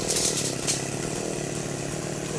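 A chainsaw runs loud and close while cutting large rain tree branches near a house, a steady buzzing engine drone with slight revving surges and no talk.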